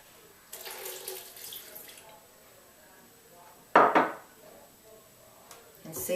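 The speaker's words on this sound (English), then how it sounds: "Okay, I'm going to put in a little bit of water." A little water is poured into a Vitamix blender holding soaked, pitted dates and blueberries. It makes a soft splashing trickle, with a louder clatter of the container partway through.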